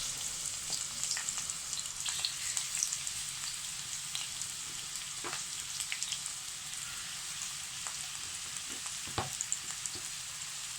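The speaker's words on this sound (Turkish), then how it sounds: "Yağımız kızarmaya başladı." Squash sizzles and crackles in hot oil, a steady frying hiss with small pops and occasional scrapes.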